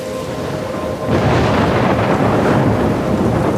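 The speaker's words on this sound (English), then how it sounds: "I'm trapped in this storm." A thunderstorm roars in the game Life is Strange near a lighthouse. Steady wind and rain build into a louder rumbling swell about a second in, then hold at a heavy, continuous level with no voices.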